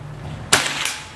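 A single sharp gunshot cracks out during target shooting, loud and abrupt after a quiet hum, followed by a short decaying echo and a faint second report.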